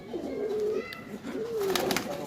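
Pigeons at a loft give a couple of soft, rolling coos close by, with faint background noise and no talk.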